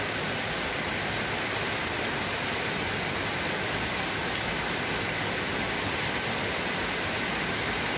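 Dense, steady downpour of heavy rain on New Year's, a constant broadband hiss with no letup and no voices.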